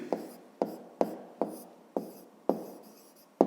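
A pen scratches on paper while writing out a rectangle perimeter formula for a maths exercise, in about eight short strokes that each start with a sharp tap and fade, close up.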